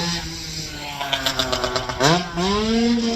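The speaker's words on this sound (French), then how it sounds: "On va laisser passer la moto." A motorcycle passing on a road, its engine note rising and falling with a quick revving pitch sweep as it goes by, fairly close and loud against a steady background drone.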